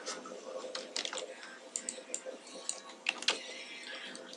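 Computer keyboard typing while writing a script for a web pentesting exercise, a quick irregular run of light key clicks, close and fairly faint, with speech mixed in.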